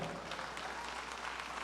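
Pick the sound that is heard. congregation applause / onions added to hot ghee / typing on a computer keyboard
congregation applause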